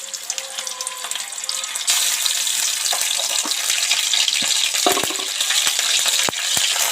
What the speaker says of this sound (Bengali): তেলের মধ্যে আদা দিয়ে ভেজে নিলাম